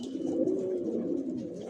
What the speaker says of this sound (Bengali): এখানে যে কবুতরগুলো দেখতেছেন সব অ্যাডাল্ট কবুতর